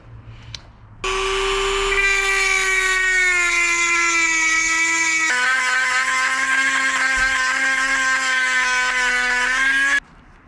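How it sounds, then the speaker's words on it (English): A grinder runs steadily and close for about nine seconds, a high whining tone that drops slightly in pitch partway through as it cuts a front-end part during a Suzuki GSX-R front end swap onto an SV650. "So I gotta find a grinder."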